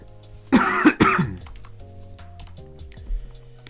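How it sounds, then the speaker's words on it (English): Two sharp, close coughs in quick succession, then quiet room tone with a few faint taps. "Have I been coughing a lot?"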